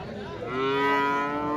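A bull calf at a cattle market moos loudly and close, one sustained rising-then-steady harmonic call filling most of the moment, with no talk over it.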